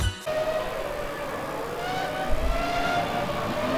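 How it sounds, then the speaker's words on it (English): A 1996 Arrows Formula 1 car in the Automobilista racing game screams along at high revs, its steady engine whine rising slowly in pitch, loud and continuous with no talk. "You can hear already the screaming of the engine of the 1996 Formula 1 cars"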